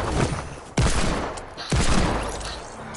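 Gunfire in a video game: two sharp, loud bursts about a second apart, each trailing off in a rumbling echo, heard alone with no talk.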